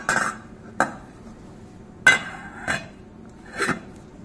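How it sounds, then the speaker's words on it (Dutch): A lid is set back on a pot of boiling pasta in a kitchen, several separate metallic clinks and clanks spaced out over a few seconds, close and moderately loud, with no talking. "zet het vuur iets lager, naar middelhoog vuur en doe de deksel er weer op"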